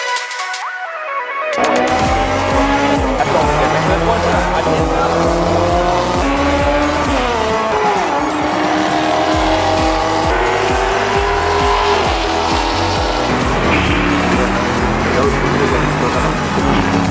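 Race cars lapping a track, engines roaring loud and steady with repeated tire squeal and skidding throughout, after a brief near-silent start.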